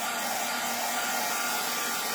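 A heat drying tool blows steadily on craft artwork held up away from the work mat, a continuous close whirring roar that fills the whole stretch without any talking.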